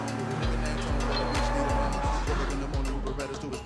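The Drifter GT in Sleeping Dogs drives with a steady droning engine, rhythmic gear shifts at regular intervals and occasional tire noise, heard close up while someone talks over it.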